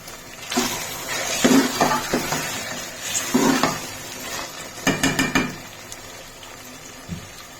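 Okra (bhindi) stir-fried in a pan for dhaba-style bhindi masala, soft sizzle under intermittent scraping and clinking of a spatula against the pan in short bursts, no voices.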